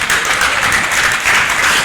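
A studio audience applauds guests on a talk and variety show: steady, dense clapping that holds at an even level, with a brief surge about two-thirds of the way through.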